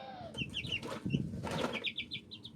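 Wings flap in quick rustling bursts as chickens fly at each other, with small chirping peeps and clucks scattered through, moderately faint.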